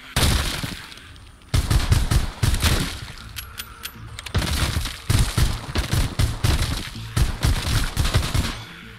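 Rapid gunfire from the VR shooter game Arizona Sunshine comes in repeated bursts of loud, sharp shots. Brief pauses separate the bursts, and some shots are followed by glassy cracks.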